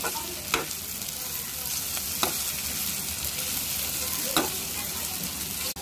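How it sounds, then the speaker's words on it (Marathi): Cut kantola vegetable pieces are stirred in a hot pan, with a continuous sizzle and occasional sharp scrapes of a spoon against the pan, heard close up with no talking. "मध्ये आपण कापलेली कंटोळी टाकून घेणार आहोत। परत छान मिक्स करून घ्यायचं।"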